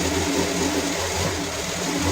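Sewing machine stitching fabric for a stool made from an old bucket, a loud, continuous mechanical whir with a fast, even pulse close by.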